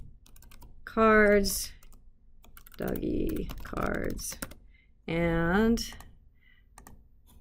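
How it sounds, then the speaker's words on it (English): Computer keyboard typing while writing code for a Vue.js Bootstrap component, quick light clicks scattered between stretches of someone talking. "I was typing this."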